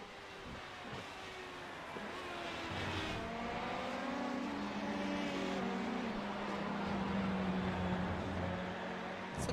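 Open-cockpit LMP2 prototype race cars lapping Silverstone in the iRacing simulator, a steady engine drone with shifting pitch sweeps as cars pass, moderately loud and continuous with no talk.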